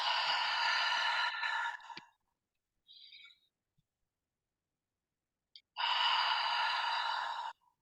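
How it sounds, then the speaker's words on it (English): A person performs Lamaze breathing up close: a long, audible inhale, a silent hold with a faint short breath, then a long airy release. "The second form of style is the Lamaze breathing, which is an inhale, hold, and a release."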